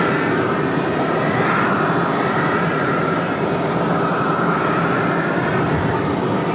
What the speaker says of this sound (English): ICE 821 from Reykjavik. 6 hours, 40 minutes of flight time for the 737 MAX.